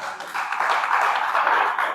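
Congregation applause at a church service, a steady dense wash of clapping sustained for about two seconds without pause, moderately loud and even.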